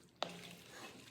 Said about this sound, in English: So I'm going to stir it again, give it a good stir.